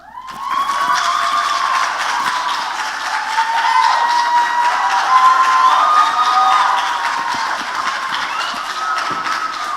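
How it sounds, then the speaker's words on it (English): A theatre audience at a school musical's final show applauds and cheers loudly, a sustained wash of clapping, shouts and whistles filling the hall. "to applaud as loudly as you can now"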